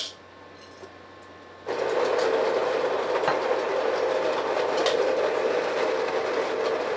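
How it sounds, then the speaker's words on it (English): A Virtuoso conical burr coffee grinder starts up abruptly after a quiet moment and then runs as a loud, steady, close whirring grind of coffee beans, with no speech over it. "We're going to grind it in our Virtuoso Barazza grinder."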